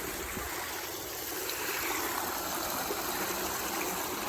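A backyard pond waterfall runs steadily, a continuous close rushing and splashing of water spilling over rocks with no talk over it.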